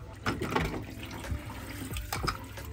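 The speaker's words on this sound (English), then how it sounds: "No, you keep pouring out the water." Water is poured out of a plastic sand table outdoors, a continuous close splashing and gurgling flow with a few louder sloshes throughout.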